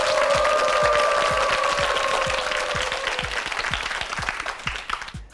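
Studio audience applause on a Korean TV word quiz show, a dense sustained burst of many hands clapping close up that gradually thins and fades toward the end.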